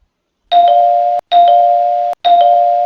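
A stock trading app's second selectable alert tone: three identical sustained electronic chime tones, each about 0.7 seconds with a sharp onset, separated by brief gaps, loud and clean with no talking.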